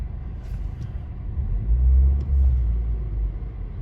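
A Buick Encore with an Ecotec engine runs after warming up, a low steady rumble with a slight swell near the middle, heard close and alone.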